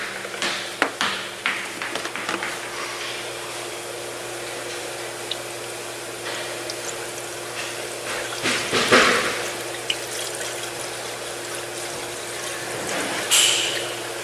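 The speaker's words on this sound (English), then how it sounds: "just gonna fill up with coolant." Coolant poured into a Hyundai Sonata Hybrid, with liquid trickling and gurgling in uneven bursts, a few knocks early on and a louder glugging surge near the middle, close by with no talking.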